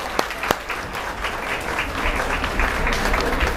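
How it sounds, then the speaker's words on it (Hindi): An audience at a coaching institute's test results event claps for students. A couple of sharp early claps swell into steady, dense applause from a nearby crowd. "ताली बजा दो भैया इन लोगों बच्चों के लिए यार।"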